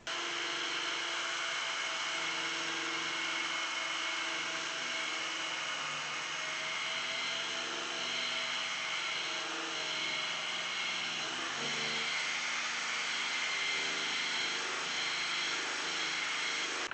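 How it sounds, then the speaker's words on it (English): A power sander runs continuously, stripping the finish off a piece of wooden furniture, with a steady loud whirring drone and slight pitch shifts as it moves across the surface. "I'm going to show you how this sands off the"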